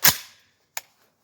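A single sharp crack of an AK-47 rifle fired with a red dot sight, close and loud, its short reverberant tail followed by a faint echo or second snap a moment later, with no voices.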